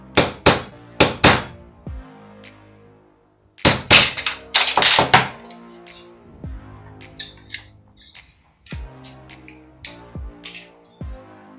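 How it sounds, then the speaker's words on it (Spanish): Hammer blows on metal while straightening the joint of a toy horse, clustered groups of sharp ringing strikes with pauses between, close and loud, followed by softer scattered taps. "Miramos de hacer fuerza para que se quede recto y entonces vamos a golpear"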